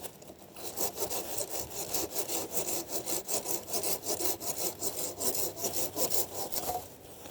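Handsaw cutting through wood outdoors at a tarp-shelter camp in light rain, a steady run of rhythmic rasping strokes back and forth, close and fairly loud throughout.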